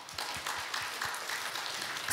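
Brief applause from a church congregation during a Sunday service, a steady, soft wash of clapping heard from a moderate distance for about two seconds.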